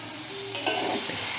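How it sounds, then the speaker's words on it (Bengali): Green beans frying in a pan with chilli, salt and turmeric, a soft steady sizzle with a couple of quick scraping stirs near the middle, close and alone without voices. "ভালো করে ধরে নাড়ো ভালো করে"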